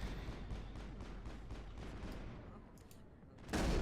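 Rapid shotgun blasts and gunfire crackle through a firefight in the video game Mass Effect, a steady dense barrage that thins out before a sudden loud burst at the end.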